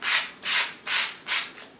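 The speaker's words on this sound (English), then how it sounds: "just run them gently through the microplaner" Four even, rhythmic rasping strokes of a small two-size microplaner shaving chunks of bubble material, each scrape close and soft, repeating at a steady pace.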